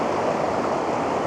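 Water flows around rocks in the middle of a stream near Svartafoss waterfall in Iceland, an even, continuous rushing wash close by with no voices.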